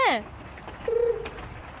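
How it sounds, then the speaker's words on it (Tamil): A cartoon pigeon coos once, a short throaty warble heard close and clear mid-clip, after a brief bright chirpy call at the start, with quiet background beneath. "கெனிச்சி, இந்த புறாவை எனக்கு ரொம்ப பிடிச்சிருக்கு."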